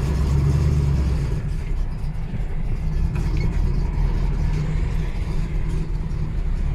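A 1969 Chevrolet Camaro Z28 engine runs with a loud, steady low rumble and a slight rise and fall in revs, heard alone without talk.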